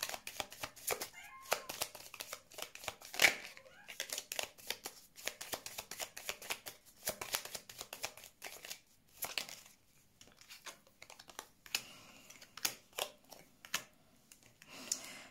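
Tarot cards being shuffled for a card reading: rapid bursts of crisp riffling and slapping, close and repeated in uneven runs, with quiet gaps and a cat meowing faintly in between.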